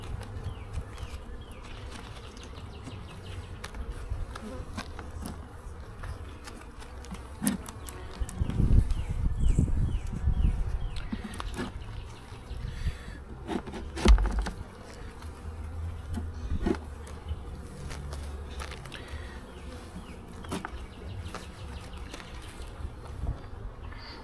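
Honey bees hum around an open hive during an early spring inspection, a steady low buzz that swells for a few seconds mid-clip along with occasional handling knocks.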